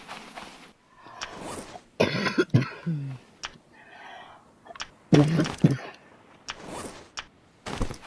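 Someone with COPD and asthma coughs several times in harsh bursts, with throat clearing and breathy sounds between, close to the microphone.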